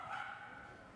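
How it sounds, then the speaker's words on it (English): A dog gives a steady, fairly loud vocal sound that sounds more like a drawn-out whine or yelp than separate barks, holding throughout the short moment. "Starting to get annoyed at that dog."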